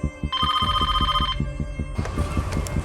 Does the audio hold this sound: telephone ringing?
yes